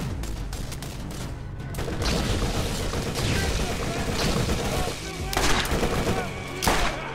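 Continuous video game gunfire from an acid gun in Borderlands, dense rapid shots with a couple of louder bursts near the end, steady and loud throughout with no clear talk.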